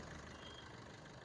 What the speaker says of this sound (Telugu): డీజిల్ వెహికల్ కూడా చాలా స్మూత్గా ఇంజన్ ఆడుతుందండి ఇది